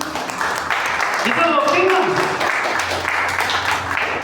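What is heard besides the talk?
applause in church congregation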